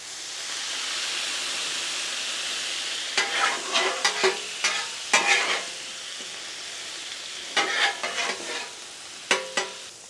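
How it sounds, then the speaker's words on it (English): Pork chops sizzle on a griddle as it is deglazed, a steady frying hiss broken by sharp bursts of scraping and stirring, close and loud, with no voices. "And of course we are deglazing that griddle,"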